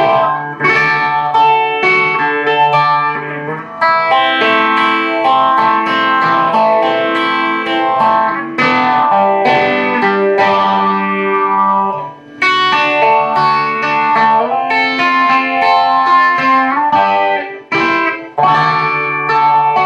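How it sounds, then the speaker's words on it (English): Electric guitar interlude from a song, strummed chords swirling through a phaser effect, loud and continuous for about twenty seconds with brief dips between phrases. "so I threw on my phaser, and the interlude will sound like this"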